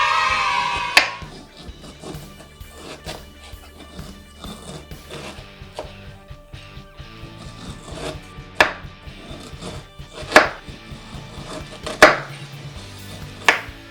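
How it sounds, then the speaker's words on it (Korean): A knife chops the ends off a pineapple on a cutting board, several sharp, separate thuds spaced a second or two apart, growing louder toward the end. "파인애플은 양 끝에 날려주시고요."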